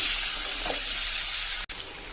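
Figs frying and being stirred with masala in a pan, a steady close hiss of sizzling with a brief scrape of stirring and a momentary cut near the end, no voices.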